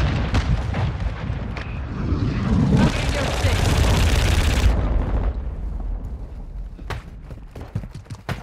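A cruise missile strike in a military shooter video game: a rumbling explosive roar swells and holds for a couple of seconds, then decays into scattered sharp pops and distant booms, with radio-style voices talking over it.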